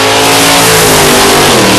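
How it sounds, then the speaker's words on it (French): A Pontiac Le Mans drag car engine revs very loudly and close, with a steady, rising roar that fills the whole moment. "Gustafsson propose cette Pontiac Le Mans à la puissance variable."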